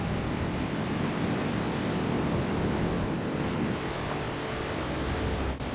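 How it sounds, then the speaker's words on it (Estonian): Surf washing onto a beach with wind buffeting the microphone, a constant broad roar while someone walks along the shore, no voices. "kui ma praegu mööda seda randa kõnnin"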